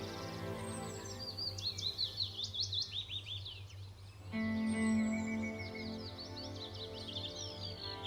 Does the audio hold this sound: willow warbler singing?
yes